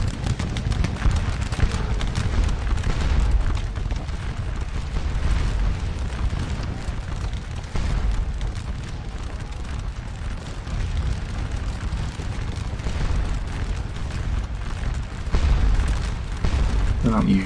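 Cannon and artillery fire rumble from a Napoleonic Waterloo battle in a strategy war game, a steady low booming din with bursts of gunfire running throughout, while voices talk over it.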